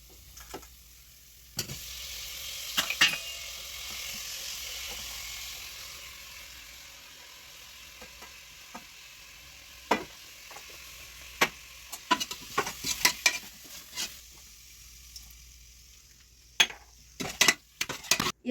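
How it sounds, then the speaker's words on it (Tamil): Tomato, green chili, coriander, mint and curd sizzle softly in a pan, a low frying hiss overlaid with scattered clinks and scrapes of a spoon stirring against the metal. "இப்ப தக்காளி, பச்சை மிளகாய், கொத்தமல்லி, புதினா, தயிர் போட்டு நல்லா வதக்கணும்."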